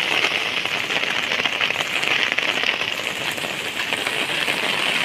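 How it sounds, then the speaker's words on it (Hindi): Heavy rain pours steadily beside fast-flowing floodwater, making a dense, continuous hiss and roar that stays loud and even throughout, with no voices. "बारिश भी बढ़ रहा है"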